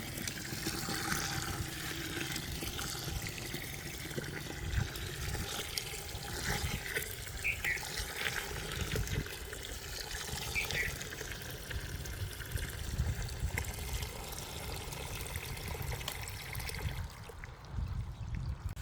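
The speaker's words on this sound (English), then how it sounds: "Pour enough water into the bucket so the mixture is moist" Water runs steadily into a bucket holding weeds and charcoal, a continuous close trickling and splashing pour that fades at the very end.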